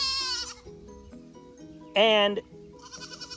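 Baby goats bleat in short bursts from close by, with one loud strained cry standing out among the smaller calls, and people talk over the animals.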